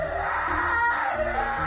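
A dog lets out a loud, sustained scream-like wail as an alarm call, one continuous strained cry of under two seconds with wavering pitch.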